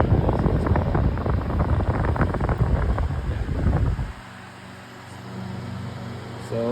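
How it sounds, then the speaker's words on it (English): A powerful 16-inch Signal oscillating pedestal fan roars loudly and gustily up close for about four seconds, then falls to a quieter steady hum as it swings away. "This fan is really powerful, but it is also kind of noisy as well."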